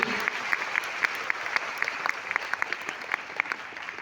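An audience claps at a sales and success-story meeting, a fairly quiet patter of applause with distinct individual claps standing out, steady throughout.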